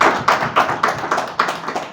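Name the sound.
audience clapping to welcome a guest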